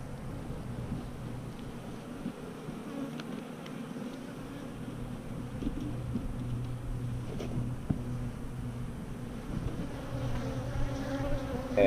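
Honey bees buzz steadily around an open Apimaye hive during a spring colony split, a dense, close drone of many wings holding at even loudness throughout.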